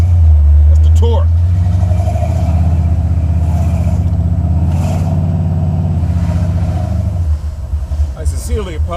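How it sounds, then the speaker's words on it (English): A Buick 455 Stage-1 V8 in a Regal-T idles at about 800 RPM with a deep, steady, loping rumble, close and loud, while someone talks over it. "is idling right now at 800 RPM, and as you can see, it's creeping up the hill on its own."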